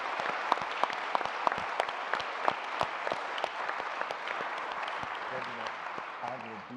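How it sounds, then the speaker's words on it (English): Audience applause at an evening event with an author, steady clapping with distinct sharp individual claps standing out, tapering slightly while a voice begins speaking near the end. "So let's give them a round of applause."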